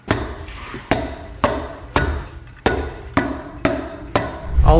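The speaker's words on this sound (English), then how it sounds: "this is just a standard Roberts staple hammer" A standard Roberts staple hammer drives staples through carpet pad on stairs, eight sharp, loud whacks landing at a roughly even pace, each followed by a short ringing decay, close by with no talking.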